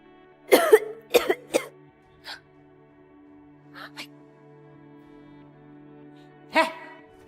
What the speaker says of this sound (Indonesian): kamu kenapa batuk-batuk